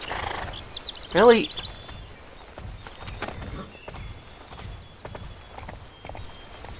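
A horse in the Wii game Barbie Horse Adventures Riding Camp whinnies once, loud and brief, followed by soft rhythmic clip-clop of hooves while a player talks over it.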